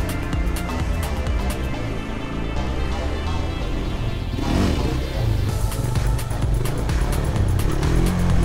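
A quad bike engine runs loud and continuous through a one-hand wheelie stunt, its steady drone rising in pitch midway as the throttle opens, with a voice talking briefly over it.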